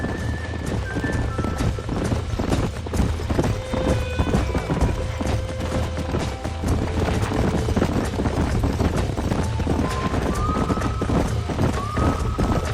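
Horses in the video game Red Dead Redemption trot with rapid, continuous clip-clopping hooves at close range, with several whinnies and neighs rising over the steady beat and some game sounds layered in.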